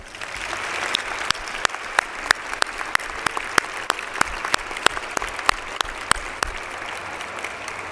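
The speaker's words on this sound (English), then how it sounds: "Spider athletes, would you please join me in a round of applause for your coaches, trainers, and all of the support staff." Spider athletes at the 2023 SPIDYS Awards applaud their coaches, trainers and support staff, a steady crowd wash of clapping with sharp, distinct individual claps punctuating it at a fairly regular pace, moderately quiet and without speech.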